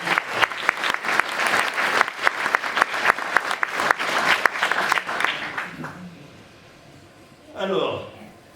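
An audience claps for René at a town hall New Year's ceremony: dense sustained applause for about six seconds under some talk, then a quiet pause before a short burst of chatter.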